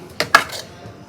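Mashed dal with fenugreek is scooped from a pot into a bowl: two quick, bright clinks of a utensil against the dish, close and sharp, then quiet.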